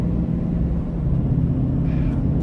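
A Chevy Express high-top conversion van with a Vortec 6.6 engine cruises on the road, heard from inside as a steady low engine and road rumble with no talking.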